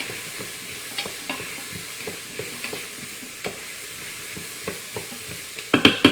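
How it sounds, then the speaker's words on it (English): A spoon stirring non-dairy buffalo chicken soup thickened with blended cauliflower in a pot, with repeated scraping taps at an uneven pace over a faint sizzle, ending in a few louder clanks; no voices. "Let me give this another stir."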